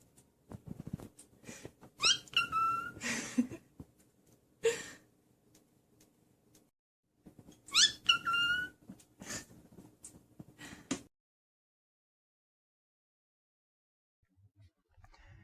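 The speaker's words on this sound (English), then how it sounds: "a cockatiel plays peekaboo with its owner. It ducks its head down behind a piece of paper, then pops up and says peekaboo in a singing whistle" A cockatiel gives two short, sing-song whistled 'peekaboo' phrases several seconds apart, close and clear, separated by soft breathy rustling and quiet pauses.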